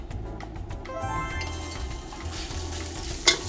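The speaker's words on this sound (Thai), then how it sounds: "การที่แม่ผัดเครื่องแกงก่อนน่ะจะทำให้เครื่องแกงสุกแล้วก็หอม" Thai curry paste for shrimp chu chee frying in a little vegetable oil in a pan, a steady close sizzle with stirring scrapes and one sharp clink near the end.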